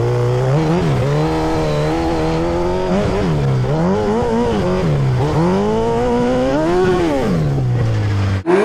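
Hayabusa-swapped dirt bike with no front or rear brakes, its engine screaming loud and close during a hill climb, pitch swooping up and down repeatedly with throttle and gear changes before cutting off abruptly.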